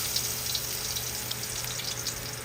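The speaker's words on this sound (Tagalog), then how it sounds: "nagpainit ako ng mantika at ang atong unang isasalang is luya" Ginger frying in hot cooking oil, a steady close hiss and crackle with tiny popping bursts, even in loudness throughout and without voices.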